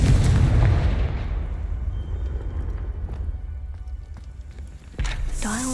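A Confringo blasting spell explodes in Hogwarts Legacy, a loud booming burst with a long rumbling tail that fades over several seconds before a second sharp impact near the end.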